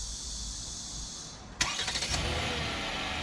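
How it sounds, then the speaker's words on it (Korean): A car engine, started remotely from a smartphone app widget (Hyundai Bluelink), cranks with a quick burst of pulses, catches, and settles into a steady idle behind a faint background hum. "지금 시동이 켜지나 보시죠."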